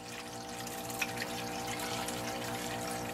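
Water flows steadily through a gold-mining setup as material is spooned in, a continuous, even wash of liquid with a faint trickle, moderately quiet and with no talk.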